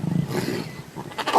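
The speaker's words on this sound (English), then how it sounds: "these lion roars can be heard as far as 5 miles away" Lion roaring in the Maasai Mara, Kenya: a deep, rumbling roar with a few low grunting pulses, close and loud, fading then swelling again over a brief moment.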